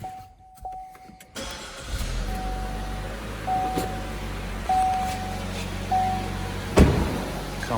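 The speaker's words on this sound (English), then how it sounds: "We'll go ahead and start the vehicle." A Chevy Trax with a 1.4L engine cranks and starts, settling into a close, steady idle, while thin electronic beeps sound at intervals over the running engine.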